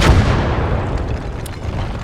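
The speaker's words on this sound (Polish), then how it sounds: "Tak, to jest nalot na tą armatę." An air strike slams into a cannon in the Gates of Hell multiplayer war game, Finland versus the USSR: one heavy close blast at the start, then a long rumbling decay with scattered crackling debris.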